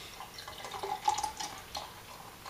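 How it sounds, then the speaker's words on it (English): Berkshire Steel Rail Extra Pale Ale poured from a brown bottle into a pint glass, a soft liquid splash and gurgle rising around the middle of the pour, heard close but quiet. "Okay, pour it into this glass, the pint glass."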